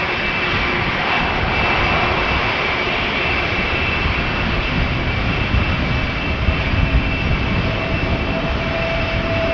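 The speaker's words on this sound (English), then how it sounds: "KLM A321neo." A KLM Airbus A321neo jet at Amsterdam Schiphol roars close and loud in a continuous broadband engine rush with a faint high whine, holding steady throughout without any talk.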